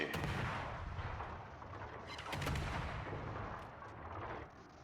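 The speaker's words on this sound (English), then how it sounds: "Two torpedoes do find a home." Torpedo hits explode against an enemy ship in a naval battle video game, heard as loud, dense, rumbling blasts and booms that swell and fade across the clip with no talk over them.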